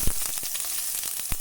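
Onion sizzles in coconut oil with mustard seeds, for broken wheat upma, a steady close frying hiss broken by a few sharp pops.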